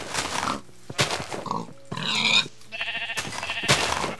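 Pigs in Minecraft grunting and squealing in several short, separate bursts, close and fairly loud, with a quiet game background between them.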